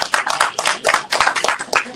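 An audience at a workshop claps hands together in a steady, dense patter of many sharp claps, loud and close, with voices mixed in.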